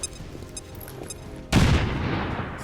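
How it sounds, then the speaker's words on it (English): A single loud grenade blast in the video game XCOM 2 erupts suddenly after a quiet stretch, its booming burst and rumbling tail lingering to the end. "Gonna drop a grenade on this guy."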